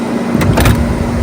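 The Spirit of Ecstasy hood ornament on a Rolls-Royce Wraith retracting into the grille, a short motorized whir with a soft mechanical clunk, close and clear.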